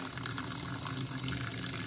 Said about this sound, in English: just a little bit of hot water